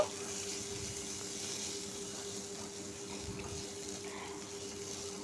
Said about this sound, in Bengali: তো চাল আর আলু সুন্দর করে আমি ভেজে নিব।